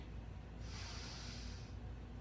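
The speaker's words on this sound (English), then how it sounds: "Breathing in" A slow, steady inhale through the nose during a yoga session, a soft breathy hiss that swells and fades over about a second, quiet and close with no talking.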